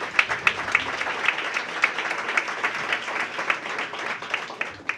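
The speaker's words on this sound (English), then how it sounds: "give another round of applause to Amber." Steady applause from an audience at a mayoral event honoring a workforce program participant, dense clapping that runs unbroken for several seconds, fairly close and lively with faint voices underneath.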